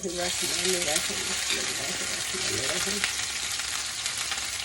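Okra frying in a pan gives a steady, dense hiss, with a faint voice or tonal background in the first half.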